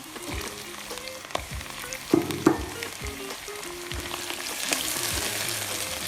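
Garlic, ginger and green chili paste frying with tomatoes in a pan for aloo moongre with radish pods, giving a continuous close sizzle broken by several clanks and scrapes of a spoon stirring, louder bursts in the middle.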